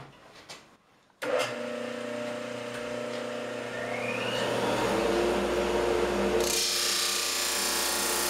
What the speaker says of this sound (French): je vais planer sur ma sableuse à tambour